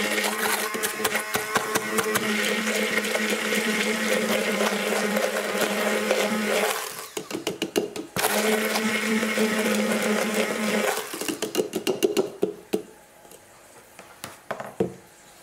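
An electric blender whirs as it blends aloe vera gel with clay into a face mask. The loud, steady motor runs for several seconds, cuts out briefly, restarts, then stops in short bursts.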